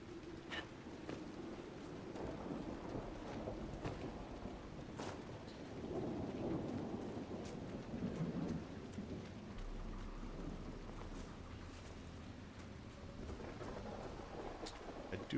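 Steady rain with rumbling thunder from a thunderstorm in the video game Dragon Age: Inquisition, a continuous wash of downpour with deeper rolls swelling in the middle, no voices.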